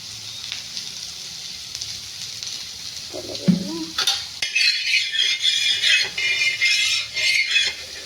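Potatoes frying in oil on a pan, a close sizzle that swells after a few scrapes and clinks of a utensil, continuing steadily to the end.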